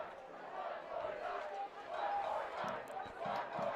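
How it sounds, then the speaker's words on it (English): Football crowd at a varsity game against Mullen cheering steadily throughout, a broad sustained roar with swells, heard at a distance with voices mixed in. "Jake, they're cheering one more yard."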